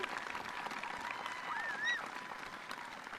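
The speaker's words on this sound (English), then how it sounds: "Applause is welcome." Applause from a graduation ceremony crowd, a soft steady clatter of many hands at a moderate distance, with a short whistle rising briefly near the middle.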